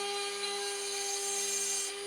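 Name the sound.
diamond drill bit drilling holes in stone in water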